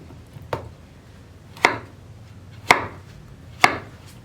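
Knife chopping a bottle gourd into small pieces on a cutting board for churakka pachadi, four sharp, close chops spaced about a second apart, with no voices.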